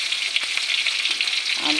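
Small rohu fish frying in hot oil until red and crisp, producing a loud, dense, close-up sizzle that holds steady throughout, with no speech.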